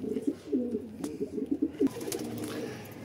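Pigeons hanging on and perched atop a loft net coo in repeated low, throaty phrases, close and moderately loud, with a couple of faint clicks and scuffles.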